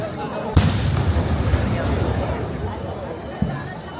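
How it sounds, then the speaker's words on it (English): Two deep, distant booms a few seconds apart from ceremonial cannons firing at a large outdoor birthday celebration, rising out of a steady crowd murmur. "the cannons that we saw earlier are now going off"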